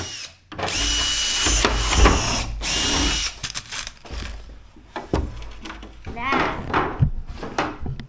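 A power drill bores holes in plastic cafeteria trays in short whirring bursts with pauses between them, close and fairly loud, while people talk over and around the drilling.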